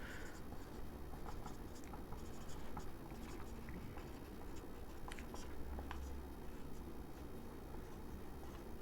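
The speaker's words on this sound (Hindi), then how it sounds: "पूरा ही लिख देता हूँ।" Chalk or a pen scratches across a board in a lecture, giving short, faint strokes in quick bursts over a steady background hiss.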